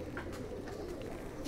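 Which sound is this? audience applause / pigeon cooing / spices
pigeon cooing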